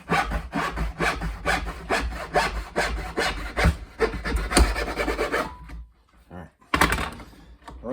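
Hand sawing through poplar hardwood for a cigar box guitar, rapid rhythmic back-and-forth strokes that are loud and close, pausing briefly near the end before resuming, with some talking mixed in.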